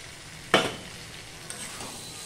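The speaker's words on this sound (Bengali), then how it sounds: "এবার ভেজে রাখা পেঁপেটা আমি দিয়ে দিচ্ছি" Fried papaya tipped into a pan of lentils and spices, a sharp burst of sizzle that settles into a quieter steady fry with a faint clink.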